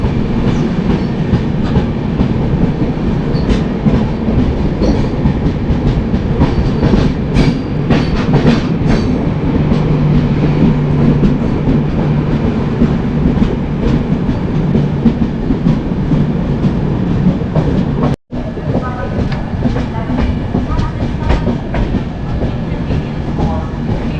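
The 12704 Falaknuma Superfast Express on its run from Bhubaneswar to Howrah, heard from on board as a loud, steady rumble with rhythmic clickety-clack from the rails and a brief dropout partway through.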